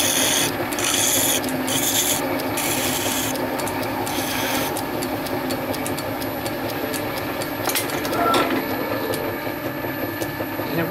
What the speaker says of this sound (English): Just take the burrs off here, or we'll break the O-ring.